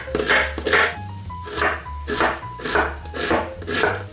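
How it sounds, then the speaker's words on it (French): Knife chopping an onion into small pieces on a cutting board while preparing a Sri Lankan chicken biryani, a steady series of close, crisp cuts in an even rhythm, alone without talk. "On va commencer par découper l'oignon en petits morceaux."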